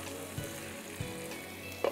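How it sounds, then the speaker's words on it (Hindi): Chicken pieces fry in a pan after being turned to the other side, a steady close sizzle with a few soft stirring knocks and a brief louder crackle at the end. "एक साइड पे आपने फ्राई किया, दूसरी साइड पे चिकन को टर्न किया।"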